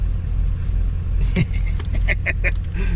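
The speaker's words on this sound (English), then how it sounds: "Truck's running, man." A diesel truck idles beside a large Case IH tractor, a low steady engine rumble running throughout, with a few brief knocks and clatters over it.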